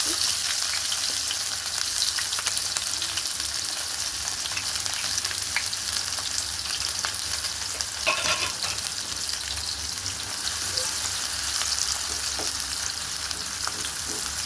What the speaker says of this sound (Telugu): ఆయిల్ వేడండి, ఉల్లిపాయలు వేసుకున్నాను.